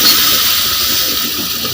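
Pumpkin frying in a home kitchen, a steady broadband hiss of hot oil sizzling continuously and fairly loud, with no voices over it.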